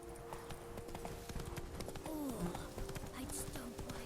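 Roach the horse gallops in The Witcher 3, a steady rapid clip-clop of hooves running throughout, with game ambience and a few brief voices murmuring underneath.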